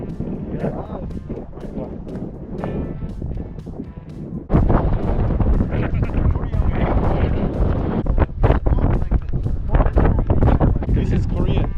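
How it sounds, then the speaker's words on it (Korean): Strong wind blasts across an open Gobi desert hillside beside a lake in Mongolia, a loud continuous roar buffeting the microphone that grows harsher after a few seconds, with voices and footsteps mixed in. "어우 바람 왜 이렇게 불어."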